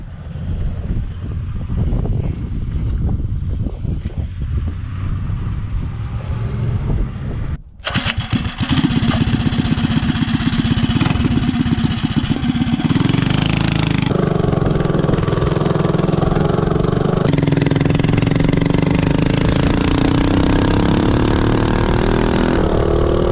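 A 212 Ghost minibike engine fitted with an ARC flywheel starts up, sputters, then revs hard and accelerates, its buzzing note climbing steadily and staying loud and close throughout.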